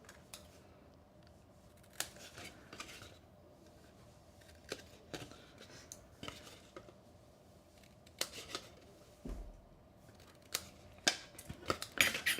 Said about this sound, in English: these two pieces here, the ends, I'm going to come in and miter cut